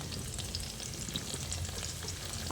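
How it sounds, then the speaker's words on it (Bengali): Boneless chicken pieces frying in a pan over low to medium flame, a soft, even sizzle with light stirring, fairly quiet and continuous, no voices. "আর এই চিকেনগুলোকে লো টু মিডিয়াম ফ্লেমে ভেজে নিতে হবে।"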